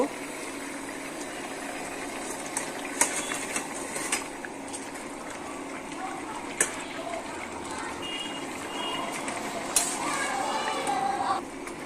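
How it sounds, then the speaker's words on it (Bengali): Fried fish stirred into spiced masala and rice for a Bengali fish muri ghonto, the spoon scraping and clinking sharply against the pot several times over a steady, close background rumble. "মাছ দেওয়ার পরে ভালো করে নাড়াচাড়া করে নেব"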